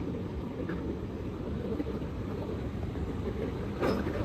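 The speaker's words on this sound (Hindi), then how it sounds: "13010 दून एक्सप्रेस मुरादाबाद के प्लेटफॉर्म नंबर 2 पर" Doon Express 13010 passenger train at platform 2 of Moradabad Junction, a steady loud low rumble of rolling stock throughout with a brief brighter clatter near the end.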